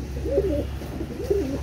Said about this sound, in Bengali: পিওর কবুতর যাকে বলে